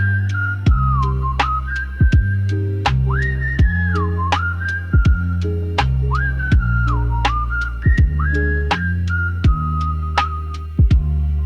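Melodic whistling over a jazz backing of walking bass and brushed swing drums, a clear tune of sustained notes with bends and slides running steadily through the whole passage, loud and up front.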